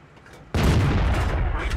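Loud tank cannon shot in World of Tanks on the Serene Coast map, with an AMX ELC bis in play: a sudden heavy boom bursts in after a quiet moment and rolls on as a sustained rumbling roar.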